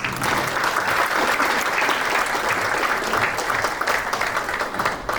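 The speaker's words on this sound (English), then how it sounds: "Big round of applause." Audience applause at an ISKCON Naperville festival event, a dense, steady wash of clapping that holds at full strength from start to finish with no voices on top.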